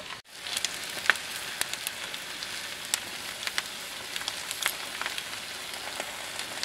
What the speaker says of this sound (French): j'attends juste la cuisson de l'omelette